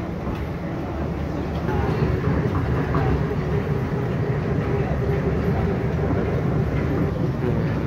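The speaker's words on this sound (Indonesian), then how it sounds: "Jadi inilah suasana kereta." An elevated airport skytrain (Kalayang) riding between Terminal 3 and Terminal 2, a steady low rumble and rolling rail noise with faint rattles, continuous and close throughout while people talk.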